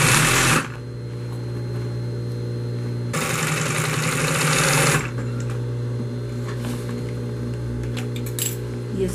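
Sewing machine joining the side panels of a man's shoulder bag, whirring in two close, loud bursts with a steady motor hum between them and a little clinking in the background.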